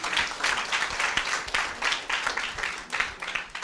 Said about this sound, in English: I think Dr. Laurie deserves a round of applause.